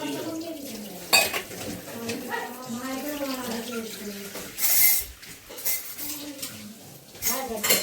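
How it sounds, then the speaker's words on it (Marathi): Dishes, pots and cutlery are washed with water at a village home, with clinks and scrapes, splashing and a running tap, under intermittent nearby talk. "भांडी घासते इथे"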